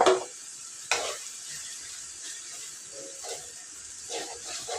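Ginger garlic paste sizzles in hot oil in a home kitchen pan while being stirred for egg curry, a continuous close hiss broken by a few sharp scraping strokes of the spoon.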